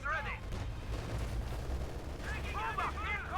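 Machine gun fire in a World War II strategy video game, with rapid bursts and distant explosions crackling under a steady low battle rumble, while a commentator talks over it.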